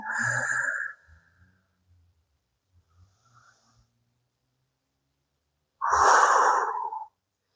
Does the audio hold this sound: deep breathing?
yes